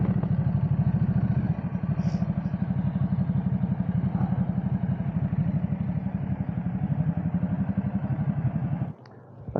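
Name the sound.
Ducati motorcycles riding around corners at road show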